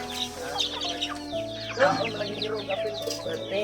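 Several chickens clucking and squawking nearby over a steady low hum, with a few louder calls in the middle.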